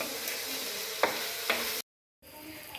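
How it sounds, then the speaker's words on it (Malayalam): Onions and tomato sautéing in a pan for a beef curry, with a soft steady sizzle, two sharp spoon-against-pan scrapes, and a brief dropout before the faint frying resumes. "അപ്പോൾ നമ്മുടെ ഉള്ളി എല്ലാം നന്നായിട്ട് വഴറ്റിയെടുത്തിട്ടുണ്ട്"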